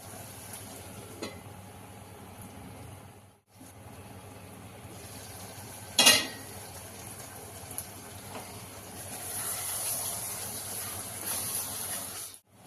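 Masala frying in oil in a pressure cooker for biryani gives a soft, steady sizzle and hiss. A brief sharp crackle comes near the middle, and the hiss grows a little brighter toward the end.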